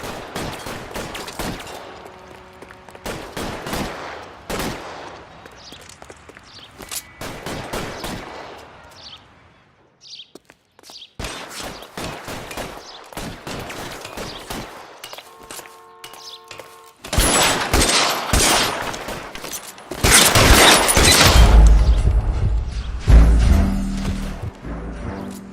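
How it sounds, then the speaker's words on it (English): Video game gunfire, with bursts of shots and rapid machine-gun volleys in irregular clusters. A short lull is followed by dense, loud fusillades that swell toward the end. "Shots fired, officer needs help."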